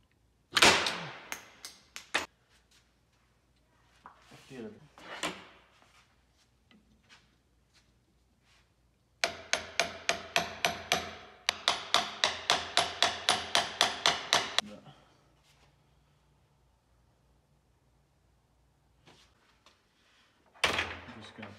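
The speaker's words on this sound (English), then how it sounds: "Get your, it's actually called a seal puller." Axle seal being pried out with a seal puller during teardown of a Ford Dana 50 TTB front axle, heard as a quick burst of rapid metallic clicks and knocks, with scattered clanks and handling noises before and after.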